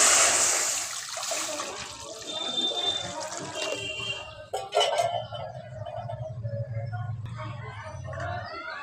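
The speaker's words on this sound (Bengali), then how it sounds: "আর এদিকে কড়াই বসিয়ে দিয়েছি, এর মধ্যে পানি দিয়ে দিব হালুয়াটা করার জন্য।" Water poured into a hot wok for making rice halwa, a loud rushing splash and hiss at first that settles into bubbling and simmering, with clinks of utensils.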